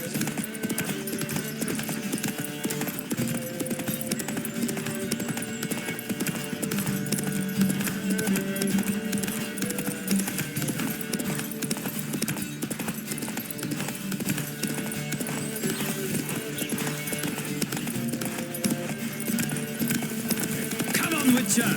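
Horses gallop in a race in The Witcher 3, a continuous rapid drumming of hooves with occasional snorts, steady and moderately loud, while voices speak over the riding.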